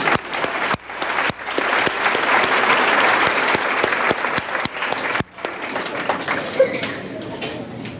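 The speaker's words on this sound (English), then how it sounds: "We'll give them a round of applause anyway." Audience in a school auditorium applauding the cafeteria ladies at an elementary school dedication ceremony, a full burst of crowd clapping that swells, then thins to scattered claps before fading.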